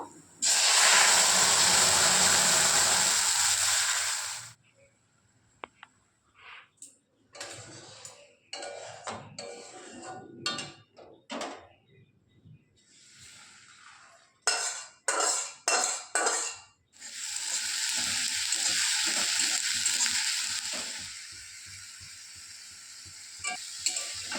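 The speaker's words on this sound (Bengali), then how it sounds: "এখানে আদা রসুন পেঁয়াজ আর লঙ্কা রেখে দিয়েছি আর ডালটা প্রথমে সাঁতলে নেব" Dal frying in a pan with ginger, garlic, onion and chili, loud bursts of sizzling hiss at start and end, with utensil clinks and stirring scrapes in between.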